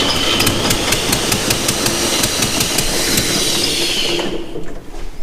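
An Ingersoll Rand air compressor engine runs rough and loud, coughing with a steady rhythmic knock, then abruptly cuts out near the end.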